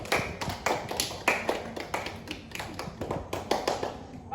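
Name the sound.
audience applause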